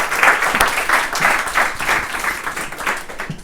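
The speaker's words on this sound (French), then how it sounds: "on peut vous applaudir." A small crowd claps at an evening business event in a bar on Rue du Port in Clermont-Ferrand. The applause is lively, uneven and fairly close, rising and falling in waves for a few seconds, and no one speaks over it.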